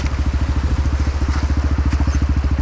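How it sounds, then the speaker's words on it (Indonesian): A motorcycle test ridden on a rocky trail, its engine chugging in a rapid, even low-pitched pulse close by, with crunching and clattering underneath and no talking. "Kita coba motor ini, kita test ride di jalur batuan."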